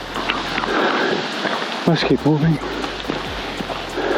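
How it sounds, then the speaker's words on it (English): Heavy rain pours steadily onto a forest trail in Hawaii, a dense continuous hiss throughout, with someone speaking briefly partway through. "Rain's coming down hard."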